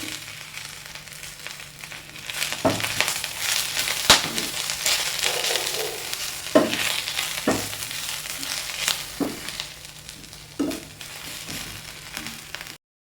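A spatula stirs and scrapes squid through a drumstick leaf paste in a hot pan, giving a steady soft sizzle broken by repeated sharp scraping knocks. No voices.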